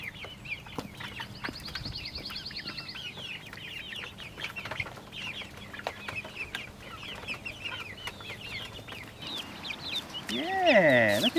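Chickens cluck and squawk repeatedly nearby in a basement, a busy flock with a louder rising call near the end, faint human voice in the background.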